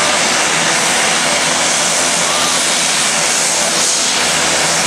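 A fixed-wing airplane taking off at Lukla Airport in Nepal, its engines a loud, continuous broadband roar that fills the whole stretch without a break, close to the listener and drowning out everything else.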